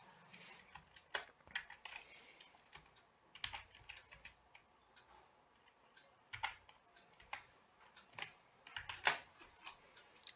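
Password and captcha being typed on a computer keyboard, a quiet run of irregular key clicks with a few sharper, louder taps, alone with no talk.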